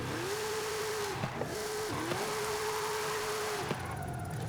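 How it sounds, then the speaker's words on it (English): Front-wheel-drive car drifting in Forza Horizon 5, a sustained engine drone with steady revving that briefly dips and recovers between slides, with tire squeal and skid noise running loud and continuous throughout. "I'm drifting a front wheel drive car that was never meant to be drifted."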